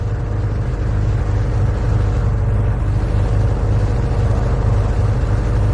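A car's engine runs with a steady low drone and an odd rough rumble throughout, loud and continuous, in an animated horror story, with no talking.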